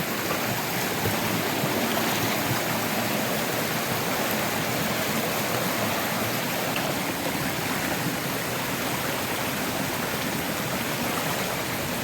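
Steady rushing of flowing stream water, continuous and fairly loud throughout with no voices.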